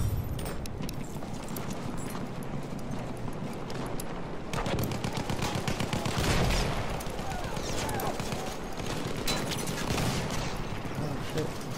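A suppressive machine gun fires in Battlefield 1, a World War I shooter, in long rapid bursts of close, loud shots that run through most of the stretch, with talk present underneath.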